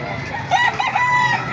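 A rooster crows once over the busy background of a chicken market in Baliuag, a short, loud, rising and falling call with other fowl faintly audible around it.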